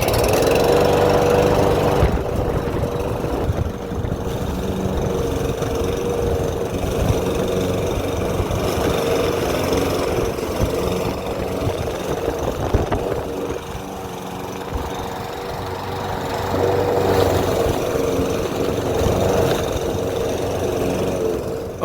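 Husqvarna 550ex push mower with a fuel problem starts and idles roughly, its close, loud engine note wavering and surging unevenly throughout.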